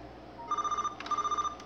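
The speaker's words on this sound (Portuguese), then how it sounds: "Ai, meu telefone, que raiva." A telephone rings in two bursts of electronic trilling bells, separated by a short pause. It sounds fairly close over a quiet indoor background, and nobody speaks.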